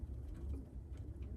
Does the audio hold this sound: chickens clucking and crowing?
no